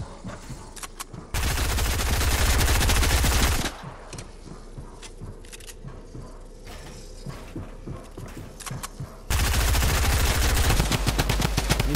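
Fortnite drum gun firing in rapid bursts: a loud sustained volley, then scattered softer shots and clatter, then another loud burst near the end, with no talking.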